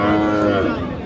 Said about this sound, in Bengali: বড় গরু